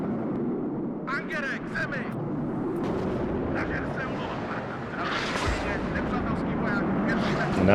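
Artillery fire in the real-time strategy video game WARNO: a dense, continuous rumble of booming blasts and distant gunfire that swells toward the end, with faint voices mixed in.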